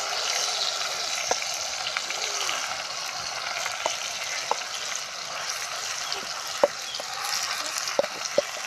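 Ground onion added to hot oil with slit green chillies, for a gongura raw fish curry, produces a constant close sizzle with scattered sharp crackles and pops.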